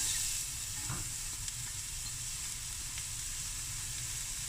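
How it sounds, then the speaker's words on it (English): Finely chopped onion sizzles in olive oil in a pot: a dense, even hiss that holds steady throughout, with only a faint tap of a utensil. "I'm going to add one onion, finely chopped"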